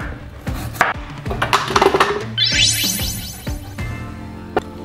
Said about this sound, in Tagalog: so islesin na natin ang ginger.